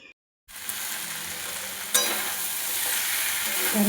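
After a brief moment of silence, chickpeas hit a hot pan and are stir-fried with a close, hissing sizzle that surges louder midway and keeps a steady roar to the end.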